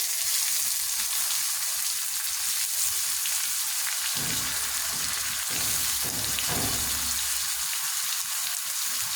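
Vegetables frying with small river fish in a hot pan give a loud, steady hiss of oil, with scraping and stirring thumps that come and go through the middle stretch.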